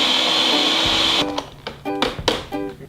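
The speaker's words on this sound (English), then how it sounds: "you want to start your food processor" A food processor runs on high, grinding lemon rinds with sugar: a loud, steady whirring roar at first, then breaking into stuttering bursts and pauses.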